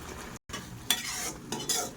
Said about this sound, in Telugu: ఇలా కలుపుకోండి పంచదార కరిగేంత వరకు